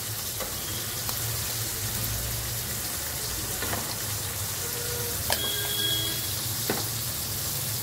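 Turmeric and ground masala sauté in hot oil for a crab curry, a continuous close sizzle broken by a few light utensil clinks and scrapes.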